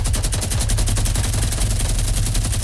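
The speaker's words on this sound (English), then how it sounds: "Bro, them miniguns are fucking destroying that thing." A Fortnite minigun fires nonstop, a loud, dense, rapid buzzing rattle of shots at a steady rhythm with a heavy low thump, unbroken from start to finish with no talking.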